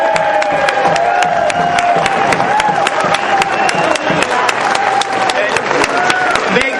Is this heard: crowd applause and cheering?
yes